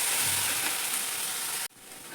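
Okra (bhindi) sizzling in oil in a pan, a bright steady frying hiss that cuts off abruptly near the end, then returns more quietly.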